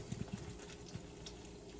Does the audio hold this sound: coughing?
no